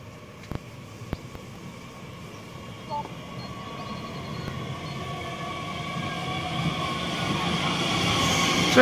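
A two-car Talent regional train rumbles steadily on the rails with a broadband roar that grows louder toward the end, broken early by a couple of sharp knocks, with no voices heard.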